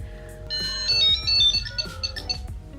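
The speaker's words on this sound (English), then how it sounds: "Click the button on the tile." A Tile Essentials Bluetooth tracker plays its bright electronic jingle after its button is pressed: a short rising melody of clear, ringing tones, close and loud, with no talking.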